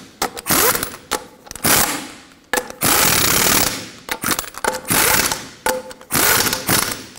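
An impact wrench tightens the wheel lug nuts on a 1995-2004 Toyota Tacoma, sounding in loud, close bursts of rapid hammering about a second long, separated by short pauses, one burst for each nut.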